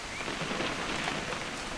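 Rain falls in the video game What Remains of Edith Finch, a dense, steady hiss of drops pattering on surfaces, moderately loud and unbroken for the brief moment, with no voices.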